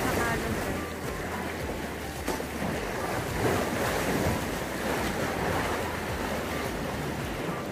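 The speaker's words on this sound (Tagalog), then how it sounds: "Lakas ng alon." Strong sea waves washing and churning close by, a continuous broad rush of surf with wind buffeting the microphone, with faint voices in the background.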